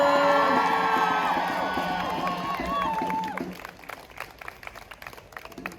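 Student rally crowd at a university encampment cheering and whooping loudly with overlapping shouts, then settling into rhythmic clapping that continues near and steady to the end.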